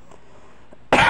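A single sharp, loud cough bursts out at the very end after near silence, close to the listener.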